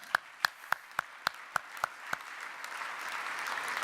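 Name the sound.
audience applause for sponsors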